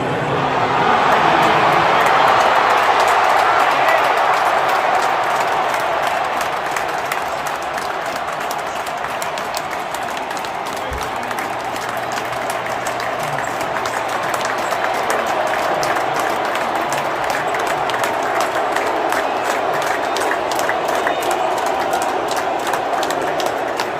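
A packed college football stadium crowd at a University of Alabama game cheers for Donald Trump, a loud, sustained roar of massed voices that holds steady without break from start to finish.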